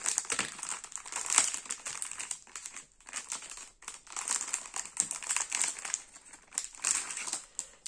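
A crinkly plastic package is handled and pulled open during an unboxing of craft trays, giving close, bursty crackling and crumpling in uneven waves with short pauses between them; no voices.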